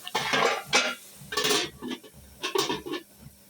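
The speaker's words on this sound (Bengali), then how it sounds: "এই যে ঢাকনাটা লাগিয়ে দিই তাহলে তাড়াতাড়ি সিদ্ধ হবে" Metal lid set onto a cooking pot while boal fish simmers, giving several close clinks and scrapes of metal cookware in irregular bursts, with no talking.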